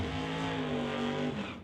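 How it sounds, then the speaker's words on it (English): Canada West Doorslammer drag race cars doing burnouts at a drag strip: a loud, sustained engine roar that holds steady and then fades slightly at the end, with no voices. "and Johnny West do their burnouts to continue with Canada West Doorslammer action here"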